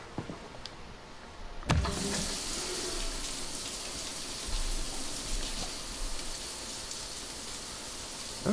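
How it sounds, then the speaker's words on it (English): Steady running water from an apartment shower in the video game Cyberpunk 2077, a continuous hiss that starts abruptly and then holds at an even level with no voices. "You can take a shower."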